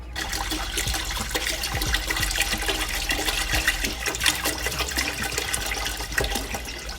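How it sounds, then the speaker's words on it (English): Spring water poured from a gallon jug into a pot of veggie soup with broth, a steady, continuous splashing gush with no voices. "Now, as for water, I'm just gonna go in with some spring water."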